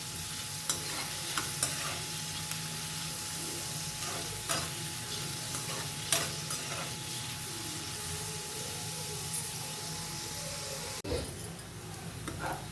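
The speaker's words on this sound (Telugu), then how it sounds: "ఉల్లిపాయలు దోరగా వేయించుకోవాలి. కొంచెం గోల్డెన్ బ్రౌన్ వచ్చేంత వరకు వేయించుకోవాలి." Onions fry in a pan for a chicken curry until golden brown, a continuous close sizzle with periodic spatula stirs and scrapes, a sharper knock near the end, no one speaking.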